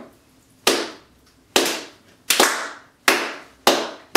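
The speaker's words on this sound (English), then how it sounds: "We're going to do a clap real fast." Five sharp, close hand claps for audio sync on a podcast recording, spaced about a second apart, each a loud crack that fades quickly into a quiet room.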